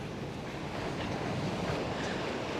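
Surf rolls onto the beach at Gran Tarajal, Fuerteventura, a steady, dense wash of breaking waves mixed with wind buffeting the microphone, with no speech.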